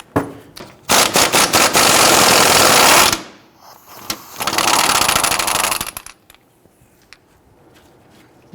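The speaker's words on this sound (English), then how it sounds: "we're going to switch over to our impact gun" An impact gun fastens a bolt on the rear forward lower control arm of a 2006-2012 Toyota RAV4: two loud, close bursts of rapid hammering, about two seconds then a shorter one, with clanks between.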